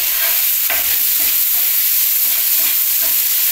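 Okra and tomato fry in oil in a pan with steady sizzling, while a spoon stirs through them with soft scraping strokes. The sound is close and continuous, with no talking.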